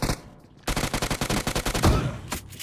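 Rapid automatic gunfire from a shooting video game, a fast burst of repeated loud shots running steadily for about two seconds after a brief quieter lead-in, with no talk over it.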